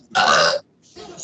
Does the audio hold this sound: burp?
yes